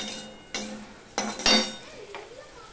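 Spice paste with cumin and a splash of water is stirred in a pot for a bitter gourd dish, with metal spoon scrapes and clinks against the pot over a faint background.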